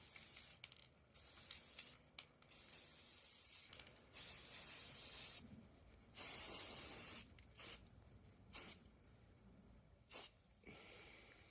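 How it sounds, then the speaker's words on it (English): Black spray paint hisses from an aerosol can into the eye holes of a papier-mâché alligator head Valentine's box, coming as about nine short, sharp bursts separated by brief pauses, close and alone. "I'm just going to spray a little bit of black just in the eye holes"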